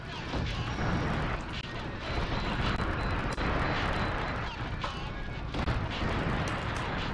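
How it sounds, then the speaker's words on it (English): Cannon fire in the Steel Battalion mech combat video game: loud, booming blasts follow one another in a rough, irregular rhythm over a constant roar of battle noise, heard up close. "Alright, so we got those cannons."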